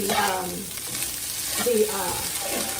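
Already-cooked rice and egg being fried in a pan, a continuous close sizzle with stirring scrapes and clatter, with brief tonal pan or utensil sounds, no clear talk.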